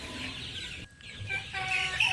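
Several well-fed chickens cluck softly and intermittently at close range, with a brief quiet gap partway through and no talking.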